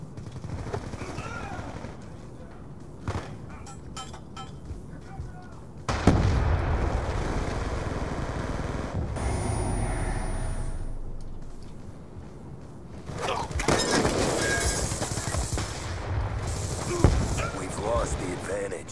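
Gunfire in the online multiplayer video game Black Ops II, with bursts of automatic rifle fire and single shots scattered through the clip, some loud and close, others quieter, alongside speech from players.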